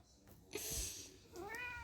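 A cat meows twice, fairly quiet and a little distant, each a short rising-falling cry with a pause between.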